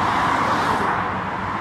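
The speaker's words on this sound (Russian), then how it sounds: "Вот едет наш автобус" A bus rolls by on a street in Glyfada, Greece, as a brief steady motor and road rush, moderately close, with no talk.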